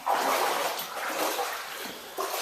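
Shallow floodwater about four inches deep covering a small basement floor gives a broad, steady sloshing wash with light splashes, moderately close and without talk.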